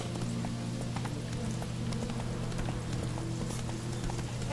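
Hooves of Roach, Geralt's horse in the video game Witcher 3: Wild Hunt, clip-clop in a steady galloping rhythm over a constant low rumble of game ambience, with no talk.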